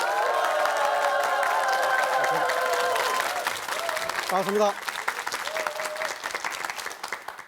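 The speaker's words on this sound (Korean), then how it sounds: "김종구 소장님을 뜨거운 박수로 모시겠습니다." Warm audience applause at a Korean TV lecture event, dense and sustained clapping filling the room, continuing as a speaker's voice comes in briefly over it.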